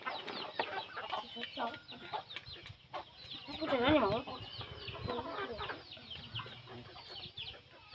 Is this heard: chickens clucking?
yes